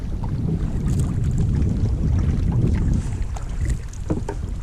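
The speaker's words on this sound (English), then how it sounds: "See how much wind we got to deal with here." Strong gusty wind buffets the microphone while kayaking on Summersville Lake in West Virginia, a loud continuous rumble with faint water splashes and paddle knocks, no voices.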